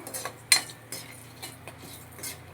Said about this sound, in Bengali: এবার তেলের ওপর আমি তিনটে তেজপাতা গোটা গরম মশলা সব ফোড়ন দিচ্ছি ফোড়ন দিয়ে একটুখানি নাড়াচাড়া করে নিচ্ছি